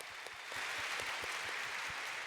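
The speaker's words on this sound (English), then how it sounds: "Clap, clap, clap, clap, clap." Crowd clapping from the audience at a live Final Fantasy XIV FanFest opening keynote in Las Vegas, a steady, fairly faint patter of many hands without talk.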